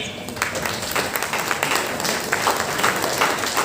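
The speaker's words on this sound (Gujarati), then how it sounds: "તાળીઓ ધીમી થઈ ગઈ." Steady, dense applause from a large audience at a Brahmin community honours ceremony in Navi Mumbai, sustained and even throughout with no clear pauses.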